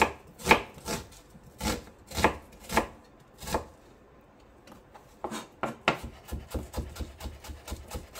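A knife chopping onions on a board for vegetable lumpia, sharp crisp strokes in irregular bursts of two or three, then a faster run of lighter, closely spaced cuts near the end, close and alone without talk.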